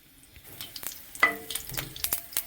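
Crushed garlic and mustard seeds frying in hot oil, with irregular sputtering pops and crackles and light spatula scrapes at close range.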